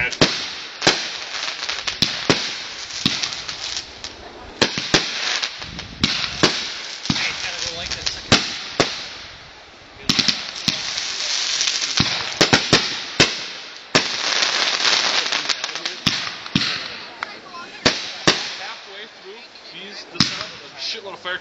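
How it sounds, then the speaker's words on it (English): A big batch of firecrackers goes off at a backyard Fourth of July fireworks display: a long, irregular string of sharp, loud cracks and pops, some in rapid clusters and some spaced apart, with voices now and then. "Shitload of firecrackers gonna go."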